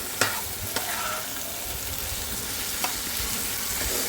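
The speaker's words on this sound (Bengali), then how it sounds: "এখন এই যে আলু ভেজে মশলা কষাচ্ছি" Potatoes with spices fry and get stirred in a home kitchen pan, a soft continuous sizzle with a few sharp utensil clicks against the pan.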